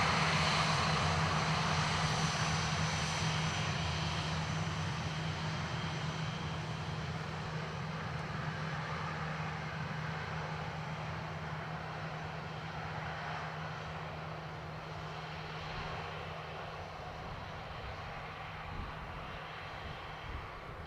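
A Ryanair airliner arriving from Porto drones steadily through a loud, broad engine roar with a low hum, loudest at first and slowly fading as it moves away, with no talking.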